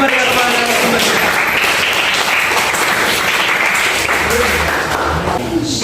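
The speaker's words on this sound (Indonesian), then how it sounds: "Mari kita berikan tepuk tangan yang begitu meriah kepada narasumber kita." An audience at a high school seminar on juvenile delinquency breaks into loud, sustained applause filling the room, with a voice faintly audible beneath the clapping.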